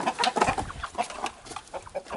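Chickens cluck busily at close range, a rapid overlapping stream of short clucks and murmurs.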